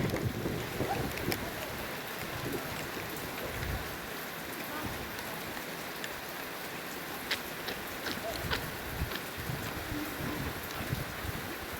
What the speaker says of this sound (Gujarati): ભેગું આવી ગયું છે પાણી અને વરસાદ ચાલુ થઈ ગયો છે.